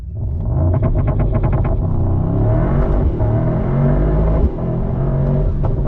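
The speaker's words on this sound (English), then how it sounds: "All right, launch control." A Mercedes-AMG GT sports car engine revs hard, then launches using launch control, roaring loudly as it accelerates through gears with a deep rumble and rising pitch.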